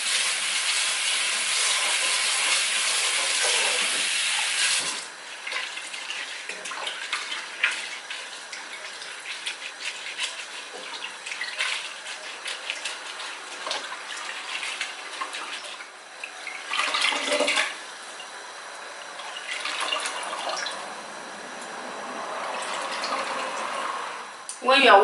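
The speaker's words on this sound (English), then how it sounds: "Now I'm going to wash it with cold water." Cold water runs hard from a tap for a few seconds, then gives way to quieter splashing and rustling as bitter leaf is rinsed and rubbed by hand.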